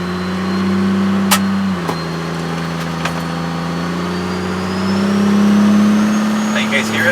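A 12-valve Cummins truck with a 4-inch straight pipe drives along, its loud, steady diesel drone rising and falling as it revs, heard from inside the cab with a few clicks and knocks.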